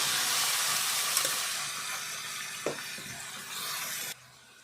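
Chicken pieces dropped into a hot pan with fried onions, a broad steady hiss and sizzle with a few sharp spatters and clunks, cutting off abruptly near the end, no speech.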